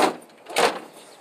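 A locked door on an old town farm is tried, with a short rattle and then a second sharper knock of the handle or latch. Both sounds are close and brief, and nothing else is heard around them.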